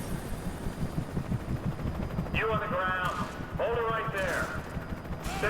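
Gunfire in the video game Alan Wake, a dense run of rapid shots and rumbling blasts that goes on throughout, with a voice shouting over it partway through.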